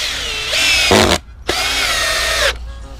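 A power drill drives screws into wood outdoors on a ranch, two close whining bursts of the motor, the first rising in pitch as the screw bites, separated by a short pause.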